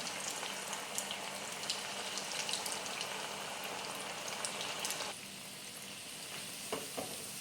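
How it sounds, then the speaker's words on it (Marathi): Potato bread rolls deep-frying in oil over a low flame, a steady dense crackling sizzle, close and even, softening slightly toward the end with a few scattered pops. "बारीक गॅसवर आपल्याला चांगलं तळून घ्यायचं आहे।"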